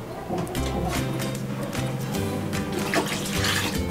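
Water pours into a cooking pot of toor dal tomato rasam, a steady, continuous splashing wash that runs for about four seconds at an even level.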